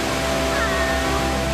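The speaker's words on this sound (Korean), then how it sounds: "최고의 비경은 낙차 215m의 웅장함을 자랑하는 삼첩천 폭포다" Steady, dense roar of falling water from the 215 m Sandiequan waterfall on Mount Lushan, a broad unbroken wash of sound with no voices heard.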